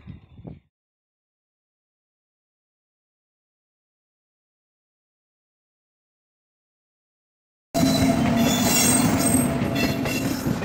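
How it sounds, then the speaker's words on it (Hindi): A train pulls into a railway station, its loud rolling rumble of wheels and cars arriving abruptly and continuing steadily close by, with faint squealing over the rattle. "ये देखो बस ट्रेन आने वाली है"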